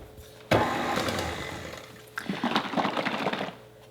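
An electric mixer whirs through buttercream with vanilla, starting abruptly, running steadily, pausing briefly, then resuming with a rougher, more uneven churning texture, close and loud.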